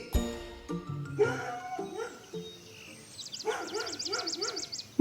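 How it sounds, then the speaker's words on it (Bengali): A dog barks in odd, varied tones as a sound effect, a few separate barks followed by a rapid run of rising yips, moderately close with no talk over it. "কুকুরটা দিবানিদ্রা শেষে বিচিত্র সুরে ঘেউ ঘেউ করে যাচ্ছে।"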